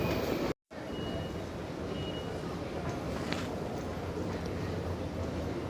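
A steady low rumble of a train idling at a station in Zurich, Switzerland, at night, with faint mechanical hiss and a few brief tonal squeals over constant background noise.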